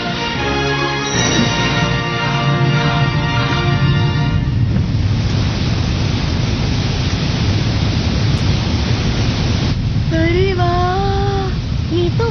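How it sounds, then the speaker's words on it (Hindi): A cartoon waterfall roars as a loud, steady rush of falling water that fills the whole scene, with a musical tone and a few effect sounds over it. "वही वाला वाटरफॉल है।"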